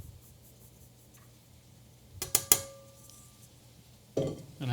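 A flour mixture being folded into gluten-free brown sugar peach cake batter, heard as a short burst of bright utensil clinks and scrapes against the bowl after near silence, then one more clatter at the end.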